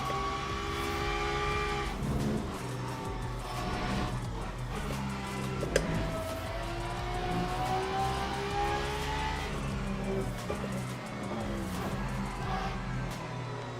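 Le Mans Hypercar engines drone steadily on track at Imola in Le Mans Ultimate, several cars running close together with rising and falling engine tones, a continuous loud roar throughout.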